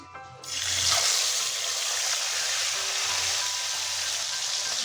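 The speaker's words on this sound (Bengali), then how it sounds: "মাছগুলোকে খুব বেশি না হালকা করে ভেজে নেব" Salted, turmeric-coated local tengra fish hit hot oil in a wok, and a loud, dense sizzle bursts up and holds steady and close after a brief quiet start.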